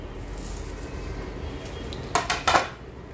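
Whole spices drop into a bowl of warm oil for raw mango pickle, giving three quick, close clinks and rattles after a quiet stretch.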